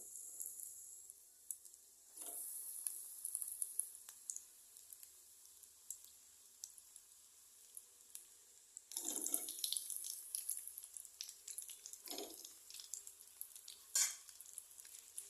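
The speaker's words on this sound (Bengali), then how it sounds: "এটাকে আমি আস্তে করে ছেড়ে দিয়ে এটাকে আমি ভেজে নেব।" Chicken chop lowered into hot oil, soft frying sizzle in a quiet kitchen with a few brief splashy hisses and clinks rising over a faint, steady crackle.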